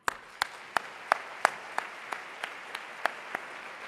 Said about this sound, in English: I would love a rousing applause for Joanne Patton.